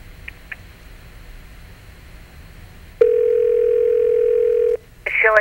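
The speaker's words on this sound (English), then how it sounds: "please hold while I dial." A telephone dial tone sounds while an operator places a call: after some quiet handling noise, a steady loud tone runs for about two seconds, then cuts off and a short burst of higher ringing tones follows.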